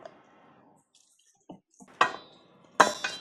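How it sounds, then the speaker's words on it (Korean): Sliced Korean zucchini tossed with a tablespoon of salt in a bowl gives a few separate close clatters and scrapes, two louder bursts near the end, after a quiet stretch. "썰어서 준비한 호박에 소금 한 큰술을 넣고 살짝 버무려 줄게요."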